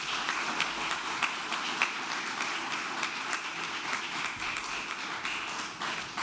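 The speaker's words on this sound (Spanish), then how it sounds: "pido un aplauso para la doctora Marta Lucía Ramírez." An audience at a government bill-signing ceremony claps steadily with sharp, scattered hand claps. The sound is moderate and sustained throughout, with no talk over it.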